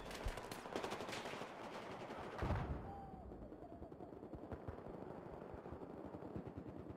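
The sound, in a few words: gunfire in a video game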